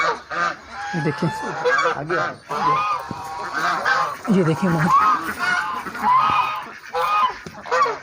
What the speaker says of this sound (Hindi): ये है मुर्गाबी यहाँ पे पाले हुए हैं।